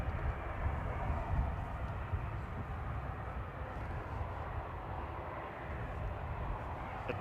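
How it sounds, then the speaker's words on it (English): An Emirates Boeing 777 passes overhead at Manchester Airport, a steady broad engine roar holding level throughout without clear rise or fade, fairly loud and unbroken by voices. "The Emirates 777 going over the top."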